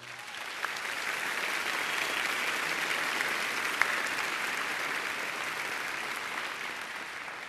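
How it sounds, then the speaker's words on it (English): Large graduation ceremony audience gives sustained applause, an even, distant-sounding roar of many hands clapping with no voices standing out. "Please join me in giving these dedicated individuals a round of applause."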